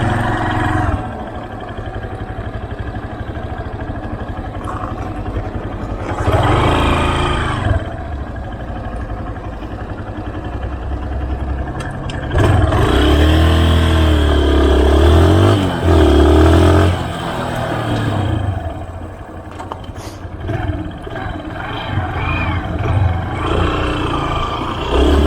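A motorcycle engine revs and rumbles close by during a licence test ride in Australia, rising in loud surges around the middle and settling back to a steady idle-like drone.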